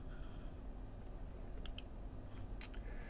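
Quiet, irregular key clicks come from typing on a Mac computer keyboard in a terminal, heard close up in short bursts against a low steady hum.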